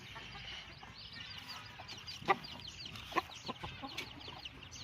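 Faint, scattered clucks come from chickens in a backyard where purebred chicks are being raised, with two sharper calls standing out over a low ambient hiss and no talking.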